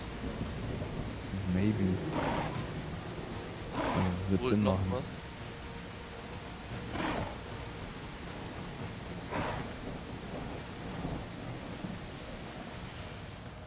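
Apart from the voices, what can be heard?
rain and thunderstorm in video game The Isle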